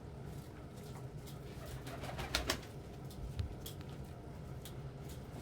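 Pet birds coo softly indoors against a steady background hum, with a couple of slightly louder calls near the middle.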